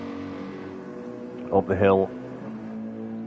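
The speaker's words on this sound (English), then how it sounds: "You can hear the thunder of the Mercedes engine" The engine of a Mercedes GT3 race car in a racing video game drones steadily through the whole stretch under a brief spoken remark from a commentator.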